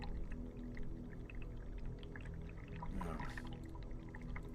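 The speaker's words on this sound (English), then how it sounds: "I can hear water running, but not hissing." Water runs steadily through the plumbing of an old asylum building, a continuous low wash and trickle with no voices.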